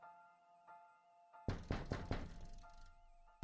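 A door in the video game The Cat Lady is knocked on with a quick run of loud, close hollow thuds after a stretch of quiet background tones, then the rapping fades into a low hum before a final sharp hit.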